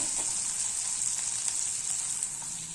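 Green chili paste with salt and turmeric sautéing while being stirred for Maharashtrian harbhara dal pithale, a steady close sizzle with faint scraping, no voices.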